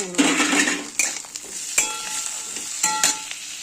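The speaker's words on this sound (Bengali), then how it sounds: "আলু আর পেঁয়াজটাকে ভালো করে ভেজে নিতে হবে" Potatoes, onions and chopped tomato sizzle in a pan while a spatula scrapes and stirs, with a few sharp metallic clinks against the pot standing out over the steady frying hiss.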